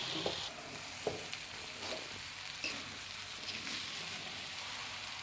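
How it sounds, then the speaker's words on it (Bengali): Rice, lentils, winter vegetables and spices being stirred together in a pot for vegetable khichuri, a low steady sizzle broken by soft spoon scrapes and occasional knocks. "তারপর চাল, ডাল, সবজি, মসলা সব একসাথে মিক্স করে নিব এবং নাড়াচাড়া করতে থাকব।"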